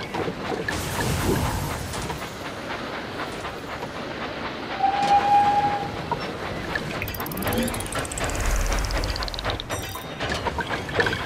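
A toy-style train engine from a children's engine play video game rumbles along the tracks with busy rail clatter, a brief whistle-like tone sounding midway and a rising hiss near the end.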